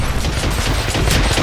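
Rapid gunfire from Hitman Absolution, a dense burst of overlapping shots filling the short span, loud and close.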